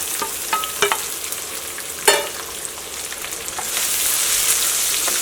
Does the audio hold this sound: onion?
yes